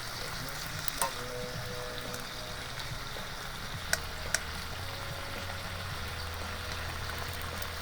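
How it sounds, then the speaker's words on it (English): Moose meat fries in a pan on a stove at a winter camp in Newfoundland, giving a soft, steady sizzle throughout with a couple of small sharp clicks. "got the moose in the pan now. It's cooking nicely."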